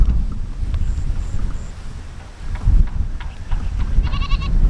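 A goat bleats briefly among outdoor ambience with steady wind rumble, a few thin high calls and a short bleat near the end, fairly faint against the background.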